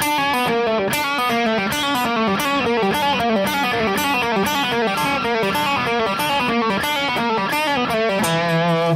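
A fast, distorted electric guitar lick with rapid pull-offs, notes cascading in a repeating pattern before ending on a held note.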